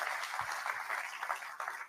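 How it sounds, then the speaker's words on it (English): A short burst of audience applause at a conference plenary session, many hands clapping together, fairly faint and heard from a distance. "Round of applause."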